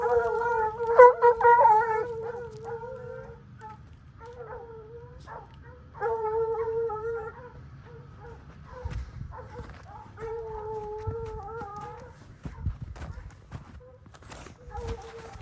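Hunting dogs on a Utah mountain lion hunt howl and bay in long, tonal, repeated cries just after being released from the dog box, loud and close with brief pauses between bursts, alongside scattered footsteps and handling noises.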